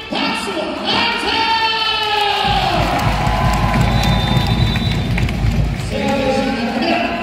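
A large crowd at a political rally in Korea honouring Megawati cheers and whoops loudly, with shouting voices and thumping over a continuous roar, close and sustained throughout.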